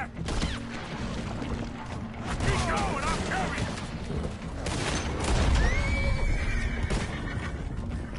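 A horse neighs and whinnies amid a noisy Red Dead Redemption 2 action scene, with hoofbeats and bursts of gunfire around it.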